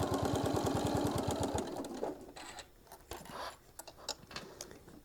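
A sewing machine stitches around a fabric travel case for a mini iron, sounding as a fast, rhythmic run of stitches. It stops partway through, and quieter handling clicks and rustles of fabric follow.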